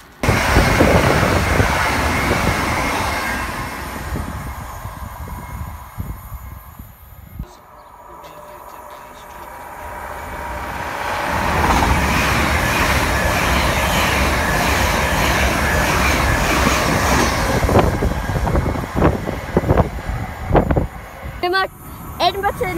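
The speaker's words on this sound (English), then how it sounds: "So that is the Azuma, King's Cross or Newcastle to Edinburgh." An LNER Azuma passenger train runs from King's Cross to Edinburgh, passing with a loud, sustained rushing roar and rumble. The noise dips briefly midway, then swells again and ends with scattered rattles and clicks.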